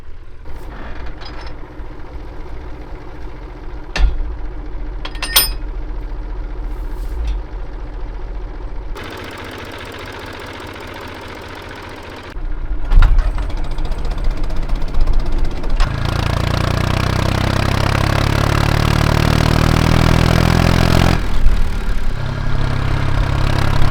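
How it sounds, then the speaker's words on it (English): A tractor hauling a trailer loaded with Conference and Comice pears runs with a steady engine drone that shifts and grows louder partway through as it labors, accompanied by occasional clunks and rattles and no talking. "That's why we use this trailer with this tractor,"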